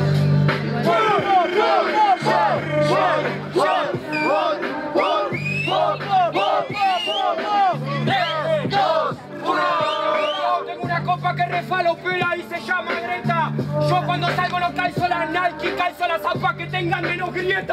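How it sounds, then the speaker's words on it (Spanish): Loud crowd at a Spanish-language freestyle rap battle, cheering, whooping and yelling continuously, with shouts rising and falling over a steady low beat throughout. "¡Un aplauso para Guachi!"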